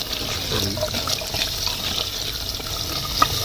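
Koyla karahi frying in a pot as the water cooks off, a continuous soft sizzle and hiss with a few faint crackles, close and steady, with no talk.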